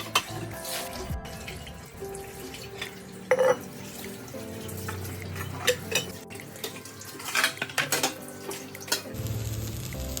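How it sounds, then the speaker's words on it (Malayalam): Pots and dishes from tea and rice get washed under a running kitchen tap, with water splashing and occasional clinks and knocks of metal and crockery over a steady flow. "രാവിലെ നമ്മൾ ചായ ഉണ്ടാക്കിയിട്ടുള്ളതും ചോറുണ്ടാക്കിയിട്ടുള്ളതും എല്ലാത്തിൻ്റെ പാത്രങ്ങളുണ്ട്, അതൊക്കെ ഒന്ന് കഴുകി മാറ്റി വെക്കുകയാണ്."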